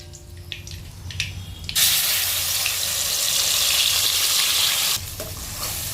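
Spice paste hits hot oil with bay leaf for shahi chicken in white gravy, bursting into a loud, steady close-up sizzle after a few quiet clinks, then dropping slightly near the end.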